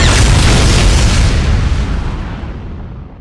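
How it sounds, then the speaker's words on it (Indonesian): A bomb explosion: one loud, deep blast with a rumbling low end that dies away slowly across about three seconds, with nothing else audible. "Bom itu pun meledak"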